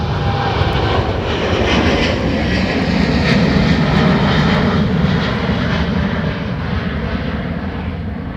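A Ryanair jet on approach to land on runway 28 right at Dublin Airport, its engine roar loud and steady throughout, with a broad rumbling drone that holds and fades only slightly toward the end.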